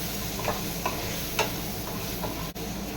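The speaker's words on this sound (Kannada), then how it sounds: "ಈ ರೀತಿ ಚೆನ್ನಾಗಿ ಫ್ರೈ ಮಾಡ್ಕೊಳ್ಳಿ." Oil frying in a pan for okra sambar, a steady close sizzle with a few soft scrapes of stirring scattered through, no voices.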